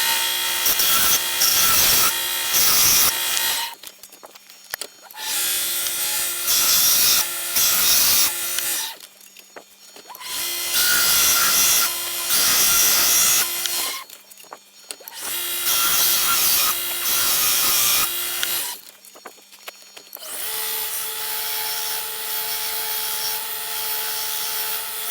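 A belt grinder grinds and sands an axe head in loud, sustained bursts of a few seconds each, separated by short pauses as the blade is lifted off, with the final pass smoother and steadier.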